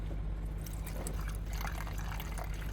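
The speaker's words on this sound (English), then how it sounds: "I'm hearing sound of water leaking to the ground" Water escaping from a burst radiator on a Toyota Camry and splashing onto the ground below, a steady close hissing trickle and pour with no talking.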